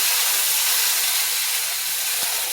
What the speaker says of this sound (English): Oh, I hear that sizzle.